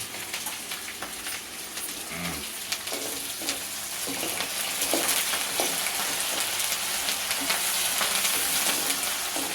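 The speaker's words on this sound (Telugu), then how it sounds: "మంచిగా బ్రౌన్ కలర్ వచ్చేటట్టు గోలాలి" Fish curry ingredients fry in a pan until brown, giving a steady, close sizzle with scattered pops and a few stirring scrapes that grow slightly louder toward the end, and no talking.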